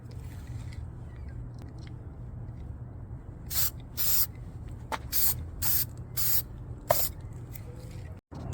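Aerosol can of gray primer spraying in a run of short hissing bursts onto a Warhammer 40K Fulgrim model, close and loud over a low steady background hum.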